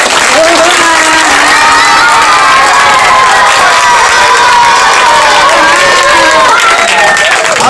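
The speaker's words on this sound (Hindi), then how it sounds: "जोरदार तालियों के साथ।" A crowd at a political rally in Bhiwandi cheers and applauds loudly and continuously, with shouting voices over steady clapping.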